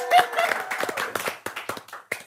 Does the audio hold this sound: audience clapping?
yes